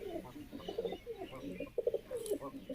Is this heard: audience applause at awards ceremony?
no